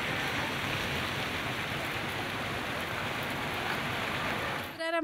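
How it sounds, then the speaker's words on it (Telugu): Heavy rain lashing down in Hyderabad with roads flooded, a steady broadband hiss of falling rain on surfaces, cut off abruptly near the end. "భారీ వర్షానికి ప్రధాన రహదారులు జలాశయాలుగా మారాయి"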